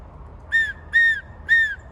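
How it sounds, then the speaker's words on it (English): A hand whistle blown as a check before a nature preserve hike gives three short, sharp, evenly spaced blasts, close and clear over faint outdoor background. "You gonna give us a whistle check before we go on the trail?"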